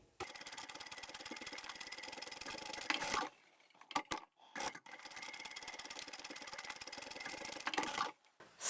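Sewing machine backstitching a French seam on a foldable tote bag, a quiet, steady rapid stitching whir that runs for a few seconds, stops briefly with small clicks, then resumes.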